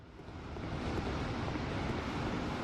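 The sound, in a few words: electric fan running in the background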